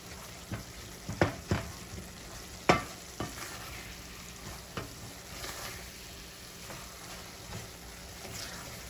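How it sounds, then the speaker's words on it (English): Coconut white grater cake, a Jamaican sugar candy, being stirred in a pot, with scattered scraping clacks of the spoon over a soft steady bubbling hiss, close and fairly quiet. "So we keep stirring."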